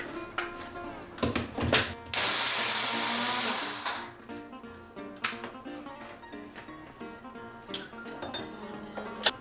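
Parmesan cheese ground in a small kitchen appliance, a loud steady whir lasting about two seconds, framed by clinks and knocks of handling, close, with no talking.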